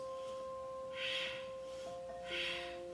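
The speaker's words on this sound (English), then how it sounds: "So slowly it becomes a breath of fire through the nose." Two soft bursts of forceful nasal breath-of-fire yoga breathing about a second apart, with a steady tone humming underneath.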